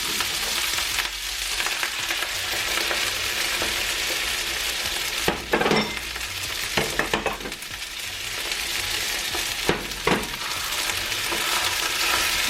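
Beaten eggs frying in oil in a hot pan for fried rice, a loud, continuous sizzle that fills the whole stretch, broken by a few scraping stirs of a spatula, no talking.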